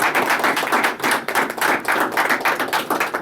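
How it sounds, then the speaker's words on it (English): A small crowd claps at a military swearing-in, brisk and continuous, close and fairly loud, with no talk over it. "Give a round of applause."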